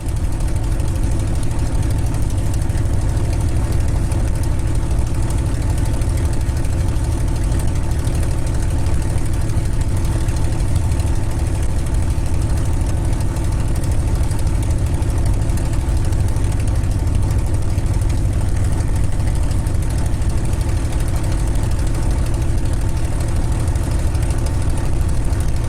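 Rolls-Royce Merlin V12 engine of a TF-51 Mustang running at a steady idle, a loud, continuous low rumble with an even throb that holds unchanged throughout, no talk.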